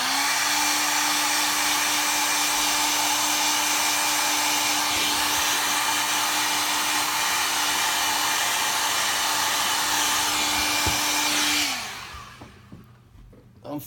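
Heat gun warming a Samsung Galaxy S8 to loosen its battery, a loud steady blowing roar with a constant motor whine that runs for about twelve seconds, then cuts off abruptly into near quiet.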